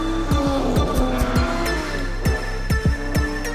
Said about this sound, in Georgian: Ferrari Colombo tipo 168-62 V12 Ferrari 250 GTO.